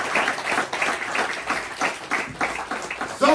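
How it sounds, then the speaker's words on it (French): Applause breaks out for Jesus during a French-language church sermon, a dense crowd clapping fairly loudly throughout with a brief voice surfacing near the end. "Applaudissez Jésus, alléluia"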